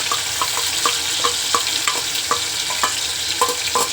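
Ground masala sizzles steadily in hot oil while cooking for a spicy Marathi chawli bean curry, with regular sharp stirring clicks of a spoon against the pan over the continuous frying hiss.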